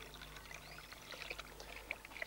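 Water pouring and splashing softly as a canary is dipped into clear water for its final rinse, a quiet continuous trickle with small drips and splashes close by.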